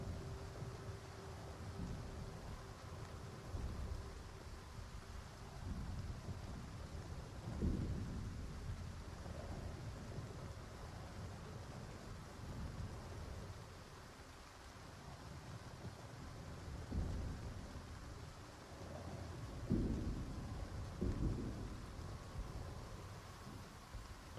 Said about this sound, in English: I will leave you guys with the rain